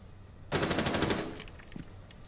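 A single sustained burst of rapid automatic gunfire from Rainbow Six Siege rattles for about a second, loud and close, then trails off into quiet.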